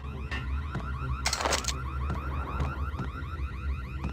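A car alarm in the video game Max Payne wails on and on in a repeating, warbling electronic pattern. It is cut briefly by a loud burst of noise.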